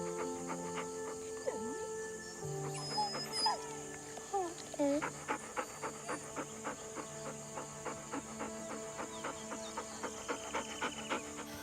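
A tired, burnt-out working dog pants in a steady rhythm and lets out several high, thin whimpers and yips early on, fairly close, under a continuous musical background.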